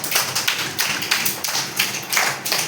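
Schoolchildren in a Grade IV classroom clap for themselves, a brisk run of rhythmic group claps in several quick bursts, close and fairly loud, with no talking.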